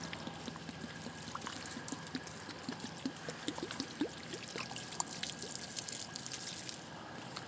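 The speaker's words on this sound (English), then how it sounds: "you want to get your bottle with soap and you just want to pour it to the ground directly" Soapy water is poured from a bottle onto the ground to draw worms up, giving a steady close trickling and dribbling stream with small irregular splashes throughout.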